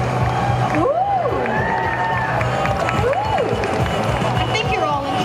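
A crowd at the Liverpool Comic Con 2019 cheers and shouts, with whoops and scattered claps filling the hall under a host's amplified voice.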